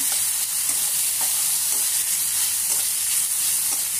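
Ginger garlic paste fries in a hot pan, giving a constant, loud, even sizzle with faint stirring scrapes and no talking.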